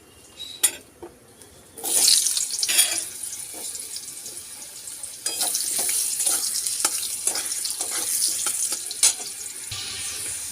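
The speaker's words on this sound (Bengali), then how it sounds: "এবার আমি আগে থেকে কেটে রাখা আলুগুলো সুন্দর করে ভেজে নেব" Cut potatoes fry in hot oil in a home kitchen pan, a fairly close hiss and crackle that rises after a short quiet start and continues steadily with scattered clinks.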